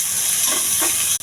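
Curry leaves, onion and green chilies frying in oil for a potato curry, a steady close sizzle and hiss with brief stirring scrapes throughout.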